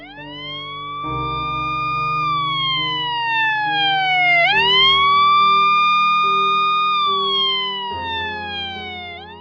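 Loud wailing police and ambulance sirens rising and falling in long sweeps, with a steady engine rumble underneath and no voices.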